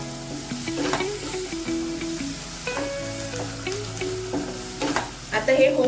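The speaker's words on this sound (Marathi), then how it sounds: "आता ह्याला आपण चांगलं हलवायचं" Lightly salted boiled corn stirred in a hot pan: soft sizzling under scraping and clinking of a spoon against the pan, close and steady with a few sharper knocks.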